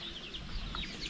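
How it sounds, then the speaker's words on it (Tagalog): Farmyard chickens clucking softly in a short burst, with faint chirpy calls over a low background rumble, no talk. "Yung mga manok natin"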